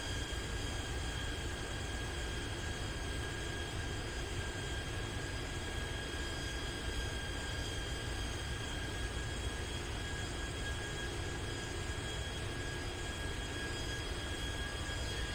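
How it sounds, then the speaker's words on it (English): Steady, loud jet engine roar from a Boeing 737 airliner in the X-Plane 11 flight simulator, a continuous broadband rumble with a few high tonal whines holding unchanged throughout, no voices. "the engine sounds aren't terrible on this, but the APU sound is awful"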